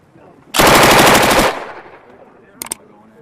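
During Marine winter shooting training in snow, a loud close machine-gun burst rattles for about a second, followed later by a brief quieter double report.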